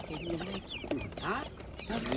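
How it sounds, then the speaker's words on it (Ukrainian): Young chickens at a poultry market cluck and cheep in repeated short calls, fairly close, with a busy crowd murmur in the background. "Ось такі курчатки."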